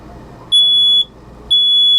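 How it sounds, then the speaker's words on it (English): A smoke alarm blares during a fire drill at a fire station, two loud, piercing electronic beeps of about half a second each, separated by a short gap, close and with no talk over them. "As soon as you hear the smoke alarm go off, you got to start crawling"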